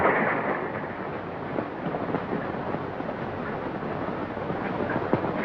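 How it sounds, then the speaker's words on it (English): A dynamite blast on a desert ranch in a 1938 Western rolls in as a distant, thunder-like rumble, a broad sustained roar that fills the whole clip with no voices over it. "Sounded like thunder off toward the desert."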